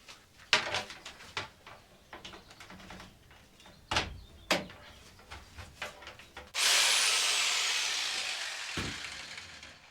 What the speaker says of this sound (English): I'm bringing my jigsaw so I can test the outlets